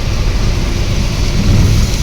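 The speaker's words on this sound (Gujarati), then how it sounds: "બહાર તો મજબૂત વરસાદ ચાલુ." Heavy rain pours steadily outside near Mount Abu hills, a dense continuous hiss with a low rumble underneath, loud and unbroken throughout with no voices.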